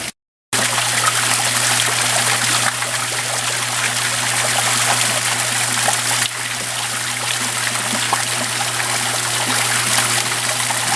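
Steady water trickling and babbling over rocks, a continuous close stream with a low hum underneath, starting after a brief silence.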